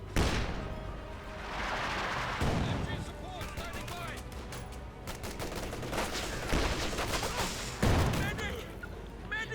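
Machine gun and rifle fire from MG42 and MG34 positions in a Company of Heroes 2 match, dense bursts and single cracks overlapping with booming impacts throughout, under a commentator's voice.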